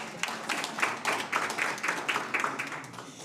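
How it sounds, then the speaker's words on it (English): A youth entrepreneurship programme launch audience claps for a panel, giving warm applause that comes in a steady run of claps with no voices over it. "can we please give them another warm round of applause?"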